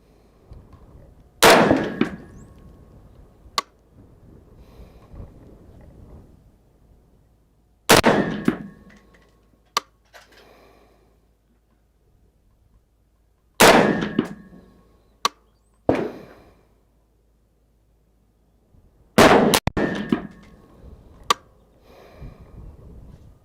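Four sharp, loud rifle shots from a WK180c Gen 2 firing Barnaul 55 grain hollow points ring out at intervals of roughly six seconds. Each report is followed by a faint metallic ping of a hit on a steel target.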